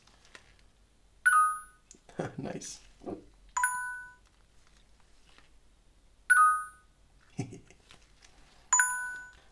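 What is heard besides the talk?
configured ringtone tones on a Nokia 6290 phone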